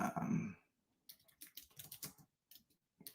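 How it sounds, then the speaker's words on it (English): Rapid bursts of typing on a computer keyboard, close and crisp, follow a short stretch of a voice, with clustered keystrokes separated by brief pauses. "I'm typing it out so I can put it in the chat."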